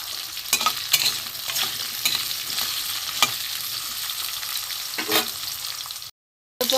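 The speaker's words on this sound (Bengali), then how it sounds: "আলু পটল একসাথে ভেজে নেব।" Potato and pointed gourd fry together in hot oil, giving a steady close sizzle broken by scraping stirring strokes, then a brief cut to silence near the end.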